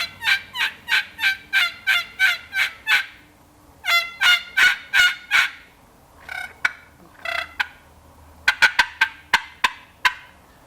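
A hand-operated turkey call imitating a hen turkey gives loud, close, rhythmic series of raspy yelps in several sequences with short pauses between them, ending in quicker clucking notes, no talking.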